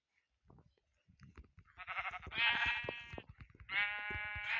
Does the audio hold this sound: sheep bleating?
yes